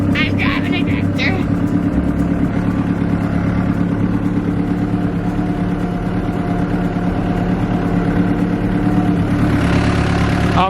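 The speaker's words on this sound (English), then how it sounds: "Sorry for the bumpy video, guys, but I'm driving a tractor." A New Holland tractor engine drones steadily while being driven, a continuous low mechanical hum filling the whole stretch with little change in pitch or loudness, loud and close as heard from the cab.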